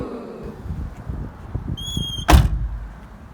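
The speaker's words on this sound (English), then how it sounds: "the barn door opens wider." A van's rear barn door swings open wider past its usual stop, with light clicks and handling noises, a brief high squeak, then a sharp thud and rattle as the door releases.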